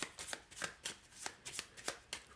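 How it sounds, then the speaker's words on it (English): Cards from the Propolis board game shuffled by hand at close range, a quiet run of crisp riffling bursts repeating at a fairly even pace, with no talking. "you shuffle them with the Queen Palaces up on top"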